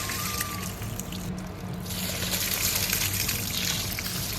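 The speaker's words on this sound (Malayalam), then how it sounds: "അപ്പോൾ 1-2 വെള്ളത്തിൽ ഞാനത് കഴുകിയെടുക്കുന്നുണ്ടേ" Freshly dug, mud-covered yams are rinsed in water, with continuous splashing, trickling and pouring up close and a brief dip in the sloshing partway through.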